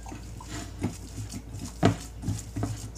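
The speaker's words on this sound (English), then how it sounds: "I'm going to mix this with my hands" Minced pork longganisa mixture being kneaded and squished by hand gives soft, wet patting and squelching sounds, with a few louder squishes spaced irregularly over a quiet background.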